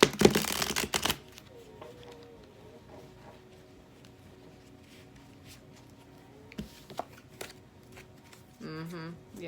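A deck of tarot cards is shuffled: a loud riffle burst at the start, then quiet handling with faint taps, another card rustle near the end, and a short high squeaky sound closing it.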